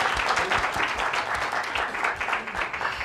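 An audience at a youth debate breaks into a round of applause, fairly close and lively, with individual claps clearly pulsing through a brief, steady burst.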